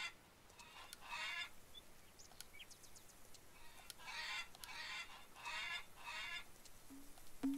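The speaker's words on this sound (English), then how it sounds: "My chicken sounds like he's having a seizure or he's stuck in the fence." A chicken in the farming game Farmers Dynasty clucks in repeated short bursts, several agitated squawks spaced across the stretch, moderately loud over a quiet background with no talking.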